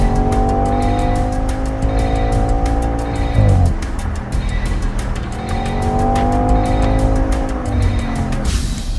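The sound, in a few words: 2014 Audi RS5 driving fast on a wet track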